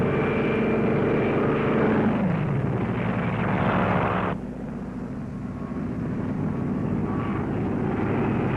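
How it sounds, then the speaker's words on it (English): Loud engine roar of a drone aircraft launched from a carrier passing close by, droning steadily, then dropping abruptly in pitch and level as it moves away, with a hum continuing behind. "the drone aircraft are launched and temporarily guided from the carrier"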